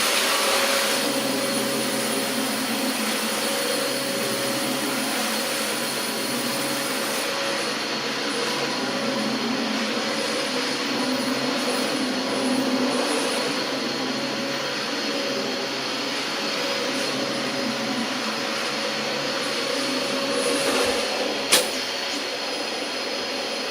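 A Dyson DC25 vacuum cleaner drones steadily at close range as it is passed gently over a dog bed, a continuous whining motor roar with a brief click near the end.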